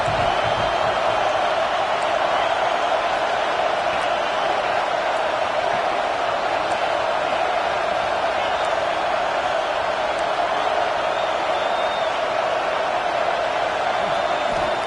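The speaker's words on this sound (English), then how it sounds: "how nice is it to have the home crowd going absolutely bananas?" Home crowd at a college football game roaring loudly and without a break, a dense wall of cheering that stays at full volume from start to end.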